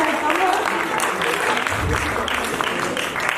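A theater festival audience claps in dense, sustained applause, with voices faintly mixed in beneath it.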